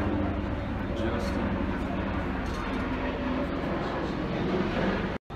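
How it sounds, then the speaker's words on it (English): An airplane passes overhead near a beach condo in Orange Beach, Alabama as a loud, steady low roar that holds throughout before cutting off abruptly at the end. "That's a plane."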